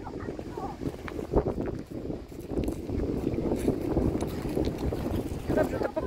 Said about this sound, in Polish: Strasznie wieje, więc nie wiem, czy tutaj dobrze w ogóle, czy w ogóle nas tutaj słychać, co gadamy.